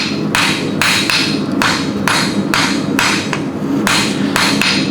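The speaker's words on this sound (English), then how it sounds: "so I'm going to try to bring it back to center with this small hammer." A small hammer strikes a hand-forged hook on an anvil, ringing out in loud, evenly spaced blows, about six sharp metallic strikes over a steady background of forge noise.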